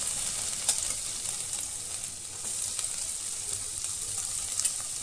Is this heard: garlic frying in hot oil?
yes